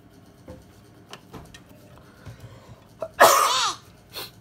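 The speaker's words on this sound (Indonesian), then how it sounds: "Batuk." A single sharp, forceful cough bursts out loudly amid quiet ticking and faint background clicks, followed by a smaller catch of breath.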